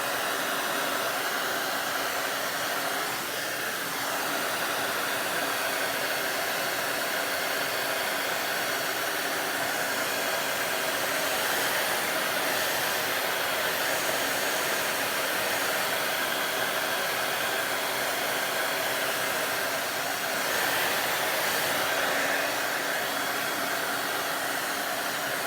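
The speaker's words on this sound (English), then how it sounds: "If you want to create a crackle, try using your blow dryer." A blow dryer heating milk paint on an antique child's chair to make it crackle runs in a steady, loud whoosh of hot air for a long stretch, with slight shifts in tone as it moves.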